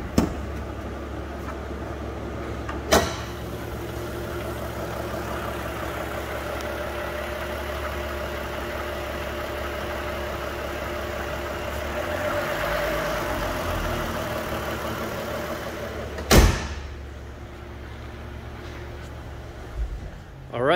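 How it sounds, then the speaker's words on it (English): A 2022 Lexus IS350 F Sport with blacked-out grille starts up with a sharp crank, then settles into a steady, close engine idle with a low rumble, followed by another brief cranking burst near the end. "Start it up for you real quick."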